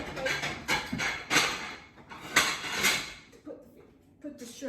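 Ceramic dishes clatter and clink as a plate is pulled from a stack in a home kitchen, several sharp knocks close by in an irregular run.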